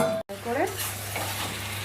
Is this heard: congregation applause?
no